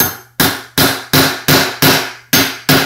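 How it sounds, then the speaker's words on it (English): Hammer blows drive a center punch into a through bolt on a Proline pool pump, seven loud, sharp metallic strikes in a steady rhythm, each ringing briefly before the next. "we're just going to center punch the center of this through bolt here"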